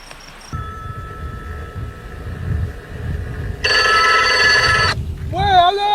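A telephone rings in an indoor scene, a steady electronic ringing tone that comes in loud and clear for about a second over low background rumble, then gives way to warbling tones.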